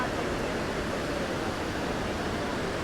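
Niagara Falls thundering nearby, a dense, continuous roar of falling water that fills the whole span without a break.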